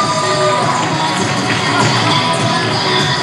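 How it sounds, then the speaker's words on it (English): A loud wrestling crowd at an AIW Intense TV show cheers and shouts steadily for Cherry Bomb as she circles ringside, a dense roar of voices with scattered whoops throughout. "Crowd is very into Cherry Bomb as she makes her way around ringside."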